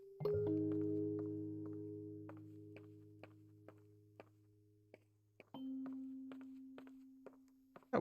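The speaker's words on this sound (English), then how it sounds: "That was a loud thud." A loud, heavy thud in the horror video game Layers of Fear, a booming impact with a long, low, ringing decay, followed by a second thud and faint tapping steps.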